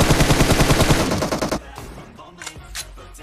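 Rapid automatic gunfire from PUBG gameplay rattles in a loud, evenly spaced burst, then trails off into a few scattered, fainter shots.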